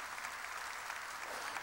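A church congregation applauding during a sermon, heard as a brief, even wash of clapping at a distance, fairly faint with no individual claps standing out.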